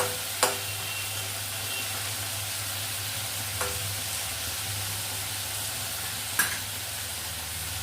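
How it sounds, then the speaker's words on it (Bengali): Prawns coated in salt and turmeric frying in a pan, a steady close hiss of sizzling oil with three faint clicks of a utensil spaced across it, no talking. "চিংড়ি মাছগুলো আমি সবার প্রথমে ভেজে নেব, যেগুলো আমার নুন হলুদ দিয়ে মাখানো আছে"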